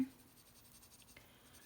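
A colored pencil drawing on paper in a sketchbook, a faint, continuous scratchy scribbling made of short strokes and quiet throughout.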